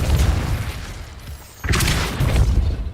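A Depulso force-push spell cast in Hogwarts Legacy gives a low rumbling rush, then a sudden broad blast burst partway through that rings on loudly.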